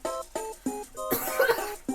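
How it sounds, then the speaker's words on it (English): A run of harsh coughs after drinking water wrong, several short bursts in quick succession followed by a longer, rougher spluttering fit, close to the listener. "Excuse me, I drank the water wrong. Coughing will ensue soon."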